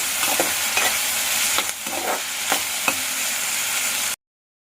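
Ladyfinger (okra) curry is stirred while it fries in a pan, with a steady sizzle broken by several scraping spoon strokes, close and without talk, before the sound cuts off abruptly.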